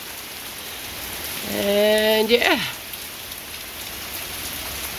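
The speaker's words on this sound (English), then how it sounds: "it's raining, storming, got thunder and lightning" Steady rain falls during a thunderstorm, an even hiss of drops on surfaces throughout, with a short spoken phrase partway through and no distinct thunder.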